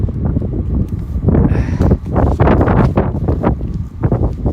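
Wind gusts buffet the microphone on a rainy Brooklyn street after midnight, a loud, continuous rushing roar that swells and dips in uneven surges.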